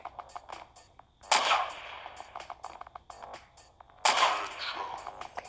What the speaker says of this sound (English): This gun sounds pretty smooth.